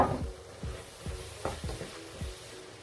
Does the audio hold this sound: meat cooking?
yes